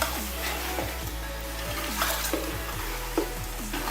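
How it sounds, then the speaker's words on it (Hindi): Chicken pieces are sautéed in a pot for a degh-style korma, a steady frying sizzle with repeated scraping strokes of a spatula against the pan at a slow, even pace. "अब इसमें चिकन डालेंगे। और इसे अच्छी तरह भूनेंगे"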